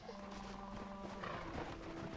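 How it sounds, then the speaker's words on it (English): Horse in the Red Dead Redemption video game, a few faint hoof clops and soft snorting movement heard close by for a brief moment, with no talk. "I'm getting my horse, that's what I'm doing."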